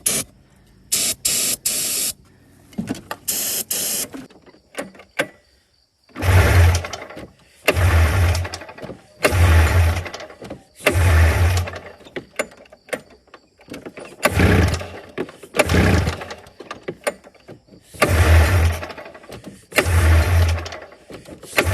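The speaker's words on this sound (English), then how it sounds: "Let's go ahead and see if we can fire her up." ATV quad with a 900 triple engine cranking over and over without catching, roughly eight bursts of starter grinding separated by short pauses, loud and close.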